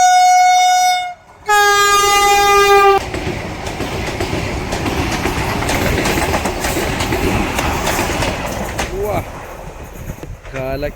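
An orange passenger train passes close by near Munroe Thuruth railway station in Kollam: a loud, sustained horn blast with a brief break, then the heavy, steady rumble and rattle of carriages rolling past for several seconds.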